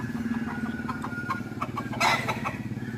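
Gamecock chickens cluck and call repeatedly in the early dawn, several birds heard at moderate distance with a steady low rumble beneath and one louder burst of noise near the end.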